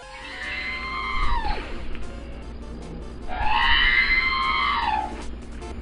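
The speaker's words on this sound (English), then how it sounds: "The result will be R2's scream ending up sounding louder and ironically more robotic." R2-D2's robotic scream in the Lego Star Wars II video game, glitching so it plays louder and more mechanical: two long warbling electronic wails, the second fuller and sustained, over a low game hum.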